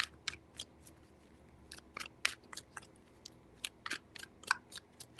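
Tarot cards being shuffled three times, giving a series of sharp, crisp riffling bursts with short pauses between them, close and fairly quiet with no voices.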